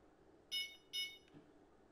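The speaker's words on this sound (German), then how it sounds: "So, was piepselt jetzt hier rum?" Two short electronic beeping bursts from a bite alarm in the Fishing Planet fishing game, faint and close together, followed by a small soft blip over a quiet background.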